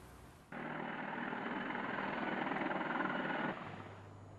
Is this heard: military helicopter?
yes